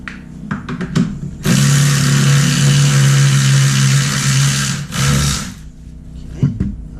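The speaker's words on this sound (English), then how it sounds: "handy dandy speed wrench" A speed wrench cranks loose the front axle on a 2014 Triumph Tiger XR800, a loud, steady mechanical whir that runs for about three seconds, stops briefly, then spins once more before fading.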